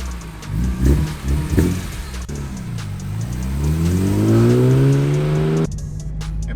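A BMW E46 M3 engine revs hard on a test drive, its note climbing steadily from a low rumble to a loud, rising wail before cutting off abruptly near the end, with no talk over it.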